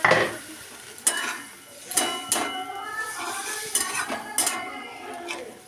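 Potato pieces go into frying masala in a pan and are stirred, a spoon scraping and clinking against the metal in several sharp strokes over a soft sizzle.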